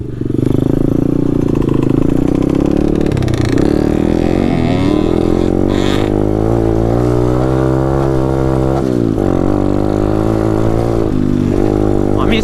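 Taotao DB17 125cc pit bike engine revving hard while being ridden, a loud, continuous buzzing drone whose pitch climbs and dips with the throttle, close up for the whole stretch.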